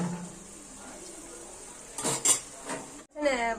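A spoon scrapes and clinks against a pot while gravy is stirred, a few quick metallic knocks and scrapes over a quiet kitchen background.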